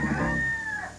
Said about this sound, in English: Kellogg's Corn Flakes presents Cornelius Rooster.